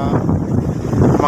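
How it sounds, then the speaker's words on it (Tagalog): Strong wind buffets and roars across the microphone while waves wash and churn nearby, loud and continuous. "lumakas na naman yung alon. Ayan o, at hangin."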